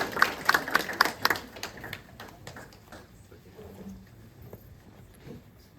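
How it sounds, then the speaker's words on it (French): An audience at a TEDxSaclay neuroscience round-table event claps as speakers walk onto the stage. The applause is loud and scattered at first, then thins out and fades, with some voices murmuring underneath. "Merci de les applaudir"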